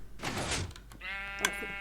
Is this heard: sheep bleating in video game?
yes